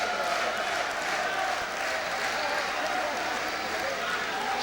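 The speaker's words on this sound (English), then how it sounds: "Excited crowd there" A large crowd at a boxing match cheers and applauds in a steady, dense roar that fills the whole stretch without a break, loud and continuous with no individual voices standing out.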